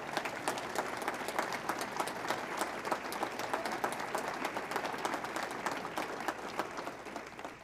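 Audience at a town address breaks into a hearty round of applause, a dense, even patter of many hands clapping continuously, heard from a moderate distance and tapering slightly at the end.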